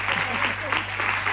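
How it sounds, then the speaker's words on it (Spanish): A studio audience at a televised show claps briefly, a soft, steady patter of many hands. "Aplauden todo."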